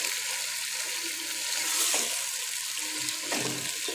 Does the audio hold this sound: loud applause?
no